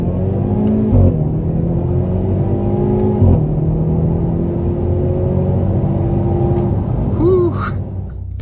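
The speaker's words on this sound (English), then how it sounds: "Should give us a good opportunity to open her up a little bit right here on the gas." A 2022 Hyundai Veloster N accelerates on a multi-lane highway, its engine note climbing steadily through the gears with brief breaks at the shifts and a brisk rev near the end, heard from inside the car.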